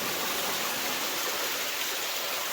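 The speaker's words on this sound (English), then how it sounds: "I wonder where that water's coming out." Water flowing inside an old mine, a steady close rushing hiss like a small stream, unbroken and fairly loud, with no voices.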